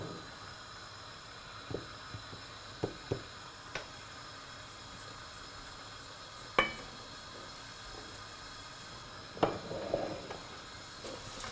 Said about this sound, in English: over medium-low heat, fry the flour until the color changes and it's a medium brown color